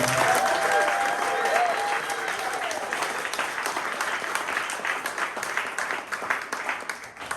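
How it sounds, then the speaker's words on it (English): A pub crowd at a politics talk night in Fremantle breaks into sustained, dense applause, strong at first and gradually easing, with a voice briefly heard over the opening. "Could I please have a huge round of applause for Ash at the local hotel team?"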